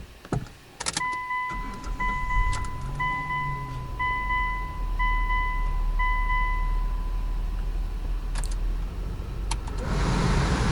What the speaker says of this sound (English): I thought I'd take it for a little drive